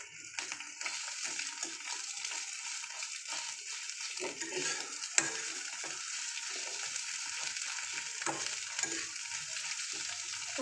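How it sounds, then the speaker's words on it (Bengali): Frying in a pan over a lowered gas flame for a paratha, a soft continuous sizzle with occasional crackles and one sharp click, close but quiet, no voices. "দিয়ে আমি ভালোভাবে এটাকে লাল করে ভাজতে থাকবো।"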